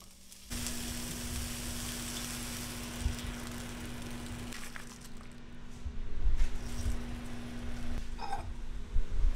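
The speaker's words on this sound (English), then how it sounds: "So I'm gonna throw this on the pan, let it cook up, use some cabbage too as well," Ground turkey, egg whites and cabbage frying in a pan, a steady hissing sizzle that runs continuously with a low hum underneath and grows slightly louder and busier toward the end.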